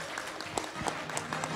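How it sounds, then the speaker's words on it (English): Brief audience applause at a blockchain and AI panel event, a dense wash of clapping hands from a seated crowd, steady and moderately loud throughout. "And a round of applause for Angie, please."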